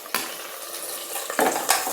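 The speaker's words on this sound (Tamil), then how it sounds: "இப்போ இஞ்சி பூண்டு போட்டுக்கிறேன்." Ginger and garlic hit a hot pan and are stirred, giving steady sizzling frying noise with a few sharp scrapes and clinks of a spoon against the pan, close and continuous.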